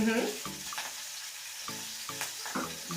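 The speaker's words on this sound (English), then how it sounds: "Okay, let that fry out." Celery and onions fry in a pot with a steady, moderate sizzle, broken by occasional soft pops and stirring sounds.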